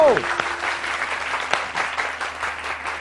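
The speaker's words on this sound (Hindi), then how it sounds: "तालियां तालियां तालियां" Applause from an audience, a dense crackle of clapping that holds steady throughout, with some voices mixed in.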